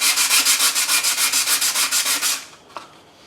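Hand sanding with 180-grit paper strips blue lacquer paint off metal Firebird parts in quick, even back-and-forth strokes, about sixteen close scratchy passes, then the rubbing stops, leaving a brief click and quiet.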